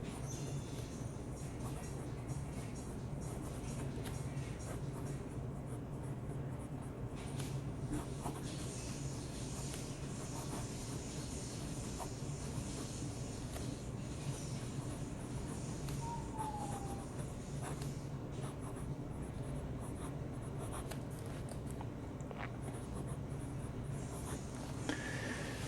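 A Penbbs 268 fountain pen loaded with Private Reserve Spearmint ink scratches softly and continuously across paper, faint and close, over a steady low background hum.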